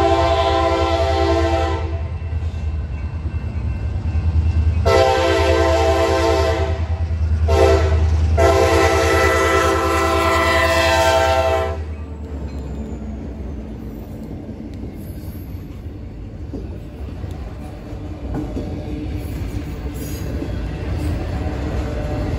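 A KCS freight train rounds a curve at Missouri City, its loud horn sounding in several long blasts over the heavy rumble and rattle of passing railcars, fading as the horn stops.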